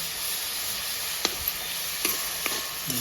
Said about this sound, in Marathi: कढीपत्ता पण टाकून घेतलं